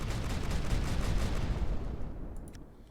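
Sustained gunfire from the player's weapons in the video game Final Theory, a dense, loud rattle of shots that holds steady for a few seconds and then thins out as the volley tapers off near the end.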